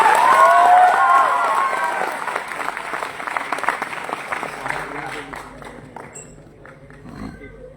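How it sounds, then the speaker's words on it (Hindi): An audience at a Delhi seminar claps and cheers with shouts rising over the applause, then the clapping gradually thins and fades to scattered claps. "साइज के हिसाब से तालियां बजा दो यार।"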